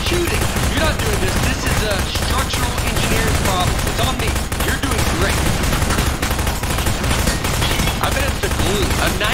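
Dense, constant gunfire in the video game Aperture Desk Job, rapid shots packed together without pause, while a voice talks over the din.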